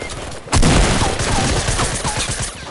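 Gunfire in Fortnite, a loud burst that keeps going as a dense volley of rapid shots, close and continuous, with no talk over it.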